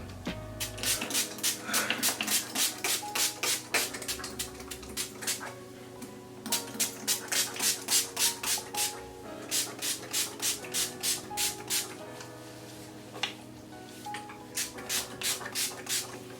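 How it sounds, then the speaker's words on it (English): Rapid bursts of a pump spray bottle misting aloe vera juice onto braided hair, fired in quick rhythmic runs with short pauses between groups, close and fairly loud. "First thing I'm going to do is spray my hair with aloe vera juice"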